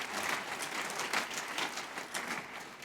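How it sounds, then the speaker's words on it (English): An audience at a conference applauds, a dense, fairly faint patter of many hands clapping continuously for a few seconds with no voices. "so a special applause to our Max Planck Society here"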